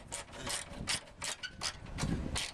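A ratchet spanner tightens nuts on a Land Rover Defender front grille panel, giving a run of quick, close clicking bursts in a steady rhythm with no talk over it.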